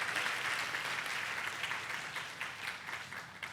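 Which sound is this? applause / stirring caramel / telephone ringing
applause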